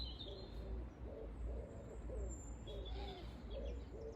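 A collared dove coos in a repeating series of soft, low, evenly paced phrases in a quiet garden, with faint high bird chirps joining near the start and end.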